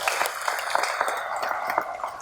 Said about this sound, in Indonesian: Tepuk tangan untuk BPOM